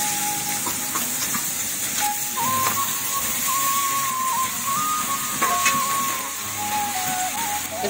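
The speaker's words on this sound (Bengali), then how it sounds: "এবারে আমি আলুগুলো ভেজে নেব।" Potatoes fry in hot oil in a kadai, giving a continuous sizzling hiss of moderate loudness that holds steady over the whole stretch, with faint tonal sounds in the background.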